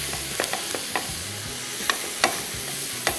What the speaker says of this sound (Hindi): हमने सिर्फ इन चीज़ों को थोड़ा सा मिला के पैन फ्राई करना है, बस।